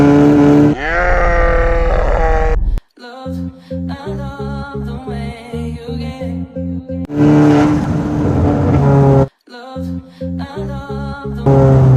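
A Stage 3 tuned car engine boosting at 2 bar revs hard with an airy intake whoosh and rapid stuttering pulses, cutting out briefly twice before surging again, close and loud.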